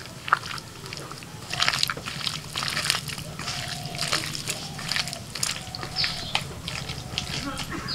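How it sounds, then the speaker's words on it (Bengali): Chicken pieces are mixed by hand with cornflour, flour and an egg, making close, wet squelching and sloshing sounds in uneven bursts. "চিকেনের সাথে সব কিছু মাখিয়ে নেব।"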